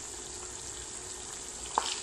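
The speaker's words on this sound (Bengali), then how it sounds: "ভাজার জন্য দিয়েছি কাকরোল আলু তেলের মধ্যে" Kakrol (spiny gourd) and potatoes fry in oil, a steady, moderate sizzle running throughout, broken once near the end by a brief metallic clink.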